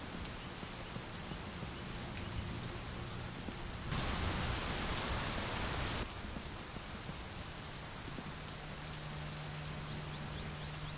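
Rain falls in the video game My Summer Car as a steady broadband hiss that swells louder for a couple of seconds in the middle and then settles back, with no talking.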